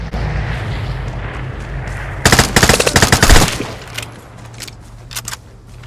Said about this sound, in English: that's the good old M249 for you